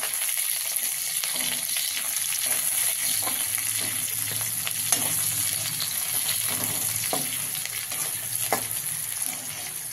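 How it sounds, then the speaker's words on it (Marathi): Potatoes and green chillies fry in a pan with a steady, close sizzle that runs the whole time, broken by occasional soft stirring scrapes and taps. "मग मिरची सोबत अजून राहिलेले बटाटे छान परतून निघतात."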